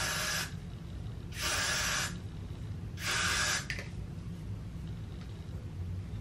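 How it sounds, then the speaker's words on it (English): Three separate hissing bursts of aerosol spray, each lasting about half a second to a second, close up over a quiet low background. "I'm just gonna spray around my hairline and a little bit of my hair,"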